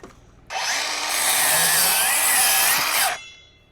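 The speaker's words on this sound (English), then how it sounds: "So let's cut a 2-foot piece first" Power saw slicing through a 2x12 wood board outdoors in the desert, a loud steady buzzing cut lasting about two and a half seconds, starting abruptly and ending with the blade whine tapering off.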